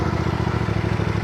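A motorcycle engine runs in a steady, rapid putter, close and fairly loud throughout the short moment, with no voices over it.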